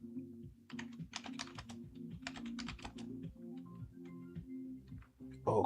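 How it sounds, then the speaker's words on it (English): Someone types on a malfunctioning computer keyboard during a coding session, quiet close clicks in quick irregular bursts with short pauses, ending on a louder knock. "I don't know what's going on with my keyboard."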